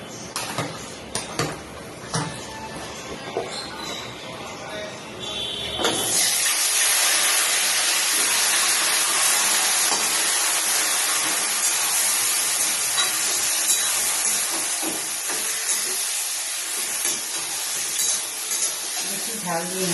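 Marinated meat going into a pan of fried onions, a steady loud sizzling hiss that rises abruptly after a few seconds of clattering and holds to the end, with a voice speaking briefly over the start.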